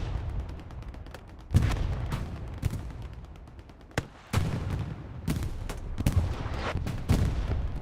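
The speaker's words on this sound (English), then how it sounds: "Critical artillery round falls around the hard cap, gets a few." Artillery rounds and gunfire boom across a battlefield in the video game Hell Let Loose, with repeated sharp impacts and heavy thuds at irregular intervals over a low rumbling background, with no talking.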